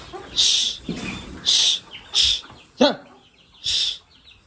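Chickens on a poultry farm cluck in a series of short, bright calls as a coop door is opened, close by and fairly loud, with brief quieter gaps between the bursts.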